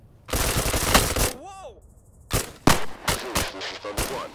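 Gunfire in the PC video game Thunder Tier One during a co-op mission: a burst of loud, dense shots up front, followed by a few sharper isolated reports and clatter, with people talking over the action.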